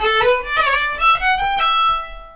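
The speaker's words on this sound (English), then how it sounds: "So again, don't worry" Irish fiddle plays the opening two-bar phrase of a tune with ornamentation, bowed notes with quick grace-note flicks and rolls over about two seconds, close and clear with no talking.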